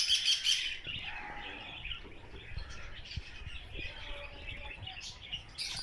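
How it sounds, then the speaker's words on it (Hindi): Parrots, including macaws and cockatoos, chirp and squawk in a bird collection at Khyber Rifles, with bright overlapping calls strongest at the start and scattered squawks continuing throughout, fairly near. "ये देखें जी कितने खूबसूरत तोते हैं,"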